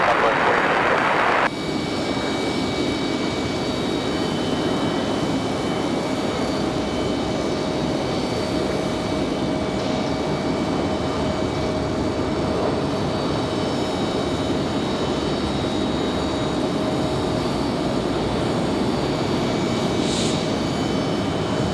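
Airbus A340 jet airliner at Raleigh Durham airport, a broad steady engine roar lasting throughout with a sharp whine at the outset, far-off and continuous with faint talk in the background.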